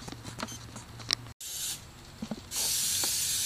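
Aerosol no-stick mold release sprays in short bursts during a silicone mold-making prop build: a brief hiss early on, then a longer, louder steady spray near the end, close by, with light handling clatter between.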